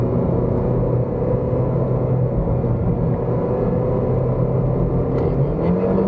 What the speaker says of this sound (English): That's third gear. Climbing up the hill.